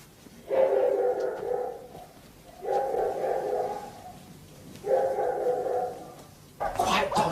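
A dog barks at night inside a house in three long, evenly spaced bursts of loud, close barking, with a faint voice starting up at the very end.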